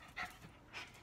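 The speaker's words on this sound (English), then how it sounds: "that you guys have met my dogs" Several pet dogs pant close to a phone microphone indoors, two quick bursts of breathy huffing with a short lull between them.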